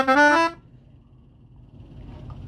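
A single loud musical telolet bus horn blast lasting about half a second, with a bright harmonic tone, followed by quiet low background rumble.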